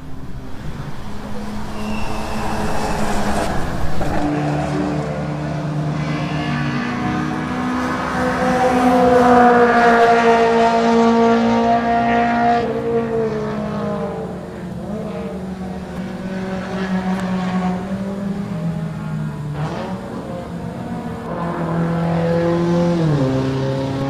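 Race cars circle a track at Buttonwillow, among them a Spoon Sports Honda Accord Euro R. Loud engine notes rise and fall through the gears as the cars pass, with one swelling drive-by partway through and no talk over it.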